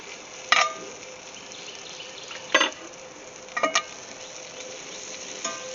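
Garlic frying in a cast iron pan, a quiet steady sizzle with a few louder scraping stirs near the start, middle and end, no talking.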